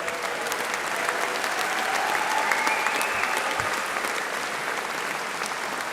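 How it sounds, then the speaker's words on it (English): Sustained audience applause for the band at a university graduation ceremony in a large hall, steady and dense for the full six seconds, with no voices on top. "Can you give the band a round of applause up here too?"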